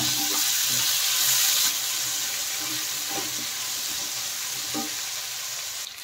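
Potatoes and chopped tomatoes sizzling in oil in a pan for aloo matar pulao, a continuous bright frying hiss broken by several soft scraping knocks as the mixture is stirred.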